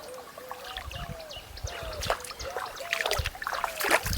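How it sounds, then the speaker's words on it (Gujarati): A steady trickle and pour of irrigation water flows into a farm field outdoors, continuous gurgling with small splashy bursts building toward the end, no voices. "તો અહીંયા પાણી ચાલુ છે"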